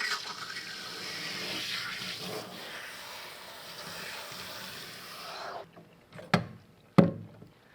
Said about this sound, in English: So we're going to go ahead and rinse the Shamfree out.